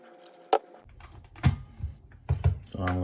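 An electric kettle holding CLR descaling solution gets shaken, giving a few sharp knocks and sloshing rattles in quick irregular bursts, close and fairly loud.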